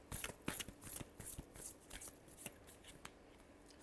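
Tarot cards shuffled by hand, a quick run of soft riffling flicks and taps, quiet and close with no talking.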